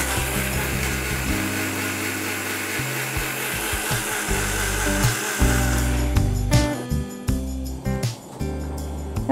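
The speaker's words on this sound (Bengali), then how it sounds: "খুব বেশি ব্লেন্ড করার প্রয়োজন নেই, কলা তো খুবই নরম, সামান্যই ব্লেন্ড হয়ে যায়।" A kitchen blender whirs through bananas and milk for a milkshake, its motor droning steadily in bursts with pitch changes as it starts, stops and restarts several times, loud and close, with no talking.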